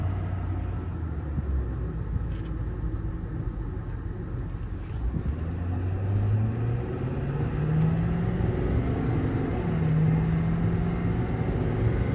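A 2016 Ford F550 4x4 diesel IMT service truck drives along, a steady low engine rumble with some rising tones as it pulls, heard from inside the cab.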